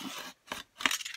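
Craft knife slicing through frame packaging cardboard, two short rasping cuts separated by a brief silence, close and fairly loud, with no talk.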